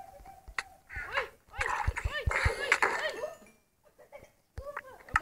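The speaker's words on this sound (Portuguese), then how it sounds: "Tem uns cachorros aqui, né?" Dogs bark and yelp repeatedly in the Call of Duty video game, sharp close bursts in two clusters separated by brief quiet, with a voice speaking in between.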